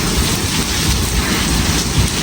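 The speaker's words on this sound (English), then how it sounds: "Well, it's raining." Heavy rain pours down outside in a thunderstorm, a loud dense steady hiss with low rumbling underneath, continuous throughout with no voices.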